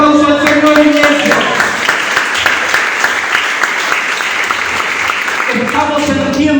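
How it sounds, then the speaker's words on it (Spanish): A church congregation applauds loudly and steadily for several seconds, a dense wash of clapping, with a voice audible briefly at the start and again near the end. "Y un aplauso al Señor, iglesia."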